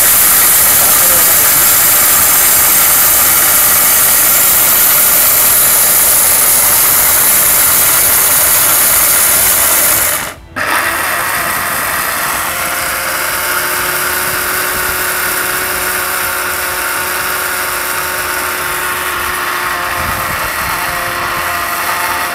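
An electric blender grinding lentils into powder whines loudly and steadily, cuts out abruptly for a moment, then resumes with a slightly lower, even hum.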